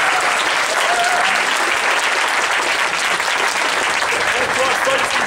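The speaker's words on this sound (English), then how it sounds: "how about a nice big round of applause for the volunteer warriors?" An audience at a Maori haka performance gives loud, sustained applause for the volunteer warriors, with crowd noise and a few raised voices mixed into the clapping throughout.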